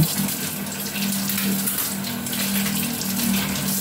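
Tap water runs steadily throughout, a continuous close gush from a faucet while an onion is washed and peeled under it for a vegetable dish, with no talking.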